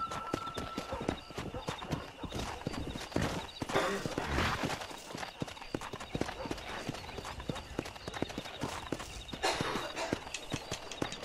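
Horse hooves clip-clop in a rapid, steady rhythm during riding in the video game Red Dead Redemption, loud and continuous, with voices and an occasional whinny over the galloping.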